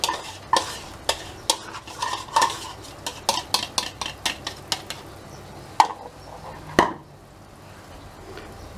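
Cod mixture being stirred in a frying pan: a rapid run of clinks and scrapes from a utensil against the metal pan over a soft sizzle, slowing into a few louder knocks near the end, with no talking.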